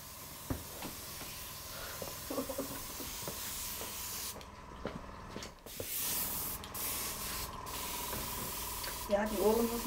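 Body paint is sprayed onto a model's skin during a photo shoot, with repeated bursts of airy hissing spray, some short and some sustained, broken by brief pauses. People talk nearby at times.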